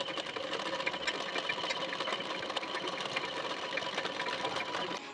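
A sewing machine runs steadily, top-stitching a folded fabric strip, its fast mechanical whir continuous and close throughout with no pauses or talk.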